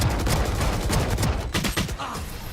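Dense, continuous automatic gunfire in a tactical shooter round after the spike is planted, with rapid overlapping shots and no pauses, close and loud.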